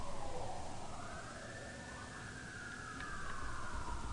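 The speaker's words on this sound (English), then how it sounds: "Got some sirens coming." Emergency vehicle sirens pass outside, a faint wavering wail rising and falling over steady broadband background noise for a few seconds.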